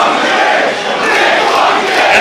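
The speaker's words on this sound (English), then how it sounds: "And the crowd solely behind Nick Gage at this moment" A packed independent wrestling crowd at an Inter Species Wrestling show roars in a steady, dense wall of cheering and shouting that holds loud throughout.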